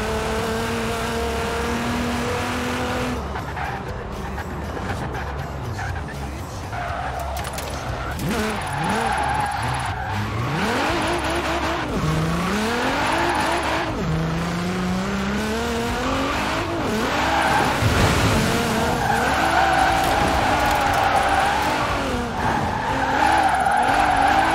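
Nissan 240XE XS drifting in The Drift Club racing game, with tires skidding and squealing in long sweeping pitch arcs over a steady revving engine, loud and continuous throughout.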